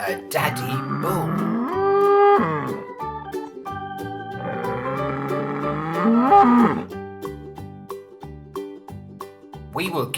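A cow and a bull moo in long, close, loud calls, two drawn-out lowing sounds with music underneath.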